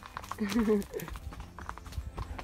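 Hooves of a ridden horse clip-clopping along a trail, soft regular steps running beneath continuous nearby talk.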